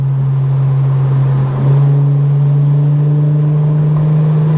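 An Infiniti Q50S with a VR30 engine and a swapped transmission drones loudly and steadily under acceleration, its engine tone dipping briefly around a gear change before pulling on evenly.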